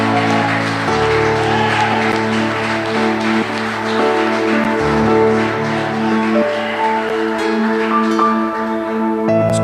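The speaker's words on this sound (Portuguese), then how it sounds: "Você pode aplaudir o nome do Senhor." Church congregation applauding, a sustained crackle of clapping under loud held music tones that runs through the whole stretch.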